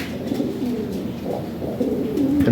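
A jumbo-size pigeon coos in low, throaty rolling phrases, close and steady, with a longer drawn-out coo near the end and no talking.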